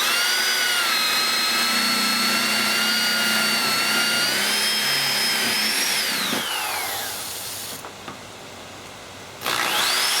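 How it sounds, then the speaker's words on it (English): A power drill with a big bit bores into riot shield material, a loud, steady whine that rises in pitch, then winds down and stops before starting up again near the end. "Use this big drill bit."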